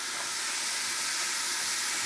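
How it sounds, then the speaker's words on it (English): Steady, bright hiss of a ginger and garlic sauce sizzling in a hot pan, continuous and fairly close, with no voices. "There is going to be a bit of a sizzle, just go with it."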